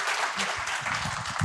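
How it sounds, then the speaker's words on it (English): Audience applause at a fireside-chat lecture, a steady wash of clapping held at even loudness for the whole moment, fairly close, with a few murmured voices low underneath. "Can you give Dr. Blanchard a round of applause?"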